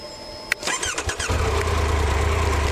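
A motorcycle from the adventure class of bikes such as the BMW R1250 GS Trophy, Ducati Multistrada V4 or Triumph Tiger 1200 Rally Explorer is started. A click and a starter whir lead into the engine catching and settling into a steady, close idle.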